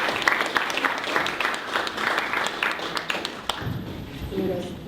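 A comedy-show audience in LA applauds a comedian taking the stage, steady crowd clapping throughout that thins slightly toward the end as a voice begins speaking.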